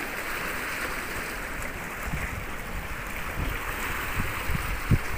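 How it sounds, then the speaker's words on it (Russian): Sea waves and wind on a calm warm morning by the Turkish coast: a soft continuous wash of surf with wind rumble on the microphone and a few faint low thumps, fairly quiet and without talk. "как слышно море"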